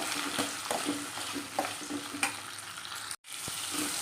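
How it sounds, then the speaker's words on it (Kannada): Tomatoes frying in a pan for bisi bele bath, a close, steady sizzle with scraping stirs, briefly cut off near the end before resuming. "ಟೊಮೊಟೊ ಮತ್ತು ಸ್ವಲ್ಪ ಫ್ರೈ ಆಗಬೇಕು."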